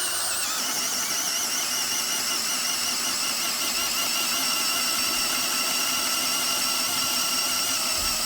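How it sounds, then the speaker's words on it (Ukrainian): A power drill whines continuously at close range, its steady high-pitched motor tone wavering slightly as it bores holes into a tree stump. "Просвердлюю дві дюрки"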